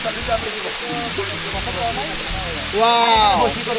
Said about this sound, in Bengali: এই সেই নাপিতাছড়া ঝর্ণা